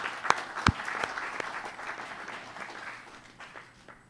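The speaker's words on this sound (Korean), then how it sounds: "뜨거운 환영의 박수 보내주시기 바랍니다" Audience applause at a Kwanhoon forum welcoming floor leader Choo Kyung-ho, a steady patter of many hands with a couple of sharper claps early on, tapering off gradually toward the end.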